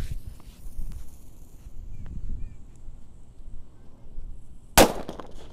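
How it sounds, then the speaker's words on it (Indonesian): A single "tongkat kera kaget" firecracker goes off with one sharp, loud bang near the end, after several seconds of quiet outdoor rustling and low background noise. "Seperti itu suaranya, tongkat kera kaget"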